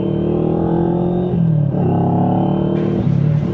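A GT400 motorcycle engine warming up at idle, a loud, close, steady rumbling drone with a couple of slight dips in pitch.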